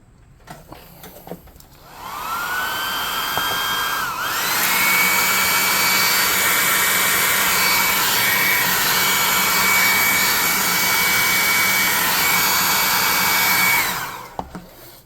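A hot air gun blows on a freshly painted tabletop miniature, a steady loud whoosh with a rising whine as it spins up, running continuously for about twelve seconds before cutting off.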